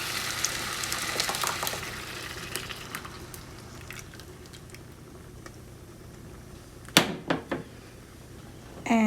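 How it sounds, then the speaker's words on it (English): Coconut milk poured into a pot of Guyanese fish curry, giving a soft liquid patter and sizzle over a steady low frying hiss, with a few sharper splashes and clinks near the end. "Now we're going to go in with our coconut milk."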